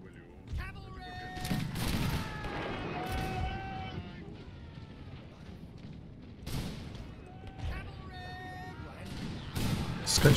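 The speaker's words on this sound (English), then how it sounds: "Let's see here the shooting from the lancers." Lancers fire volleys in a colonial British Empire battle game, heard as muffled bursts of musketry and booms with a couple of sharp cracks near the start and end, under steady talking from a player.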